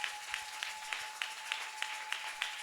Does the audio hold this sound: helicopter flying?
no